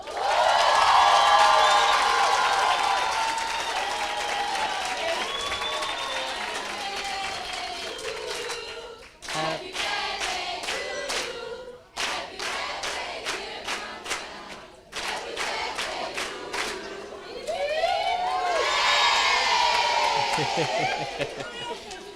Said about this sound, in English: please join me in giving a round of applause to a happy birthday to Dr. Natalie Mansveld.